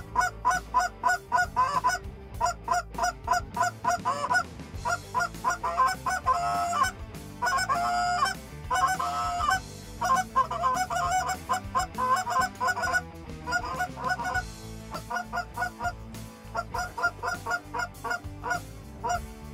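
Close geese honking in a rapid, repeated chorus of calls, dense and loud throughout during a goose hunt, with brief gaps between bursts.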